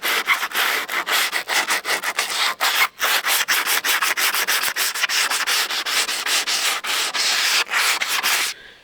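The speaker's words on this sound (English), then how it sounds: "So I am going to go ahead and sand up here." A 100-grit sanding sponge scrubs the bed of a 1987 El Camino in quick, steady back-and-forth strokes, dry and raspy, close up with no talking.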